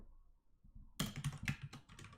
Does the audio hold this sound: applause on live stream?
no